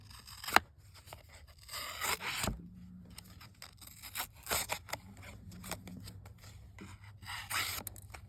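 A folding knife slices through a stout playing card with quiet scraping and rasping cuts in short irregular strokes, close up, opening with a sharp snap.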